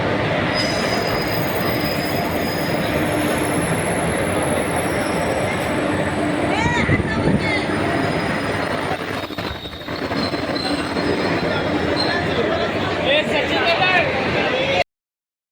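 A train runs past with loud, sustained metal wheel squeal over its rolling clatter, which holds steady for about fifteen seconds before cutting off abruptly. Speech from people close by can be heard underneath.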